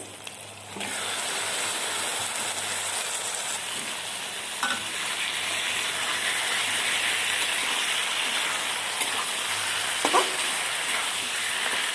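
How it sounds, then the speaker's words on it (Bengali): Marinated mutton pieces hit hot oil with fried ground spices, turmeric and chili powder, setting off a loud, dense, steady sizzle that persists, with a few faint clinks of a spoon. "এরপর দিয়ে দেব ম্যারিনেট করে রাখা খাসির মাংসর পিস।"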